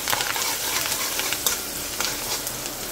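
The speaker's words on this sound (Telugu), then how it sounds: "పోపు వేగుతుంది" Tempering spices sizzle and crackle in hot oil with asafoetida, ginger, green chillies and dried red chilli pieces for South Indian temple-style lemon rice, a steady close frying hiss with brief louder pops.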